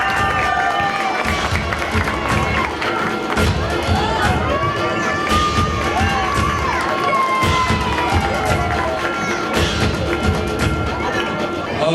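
An audience at a festival event in Kandivali West cheers and claps for Anil Barot, a dense, continuous crowd roar with shouting voices and applause.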